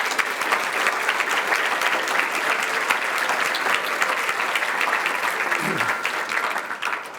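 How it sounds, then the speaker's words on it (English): Audience applause for teachers at a Nashua Education Foundation awards presentation, a dense, steady clapping from a large crowd that holds at full strength for the whole stretch before easing slightly at the end. "why don't we give all of our teachers a round of applause"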